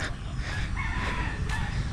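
A rooster crows in a long drawn-out call near a countryside hut, loud and close over a steady low rumble of background noise.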